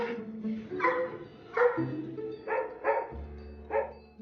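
Two pug dogs at Heathrow airport bark in short, sharp bursts, about half a dozen yaps spaced irregularly and heard close up with no talking.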